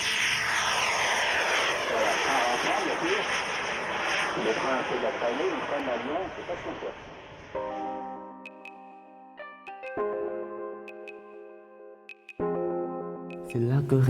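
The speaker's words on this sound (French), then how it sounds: "Les avions de voltige sont toujours plus puissants et très impressionnants." An aerobatic model airplane's engine roars loudly overhead with a shifting, Doppler-like pitch, then gives way to steady tonal music.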